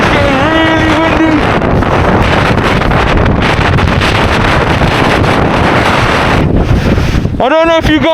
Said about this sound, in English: It's so cold. It's getting really windy.